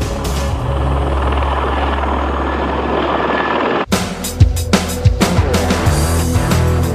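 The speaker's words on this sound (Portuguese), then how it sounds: "Mas no presente, o helicóptero continua sendo o senhor dos céus." A helicopter flies close by with a loud, rapid rotor thump and engine roar that holds steady, then cuts abruptly into a shifting stretch of whooshes and bursts.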